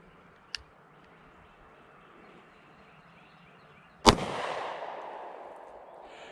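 A Taurus G2C pistol fires at an outdoor target from about 30 feet, with one faint distant crack early and then a single loud sharp shot followed by a long fading echo.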